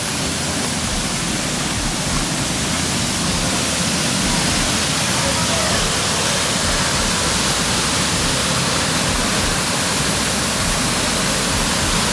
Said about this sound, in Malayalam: ചെറിയ വെള്ളച്ചാട്ടം വെള്ളം ഒഴുകി വരുന്ന തോട്